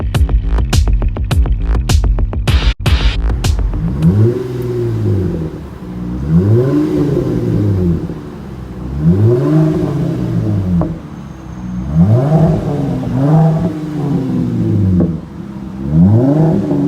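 A 2018 Jeep Grand Cherokee Trailhawk V6 with a Street Demon true dual cat-back exhaust and stainless tips, first cranking with sharp clicks, then revving in a series of rising and falling blips, loud and close, with no voices.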